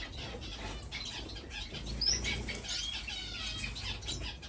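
Caged finches flutter their wings in rapid, restless bursts with a few soft chirps, close and fairly faint, continuing throughout.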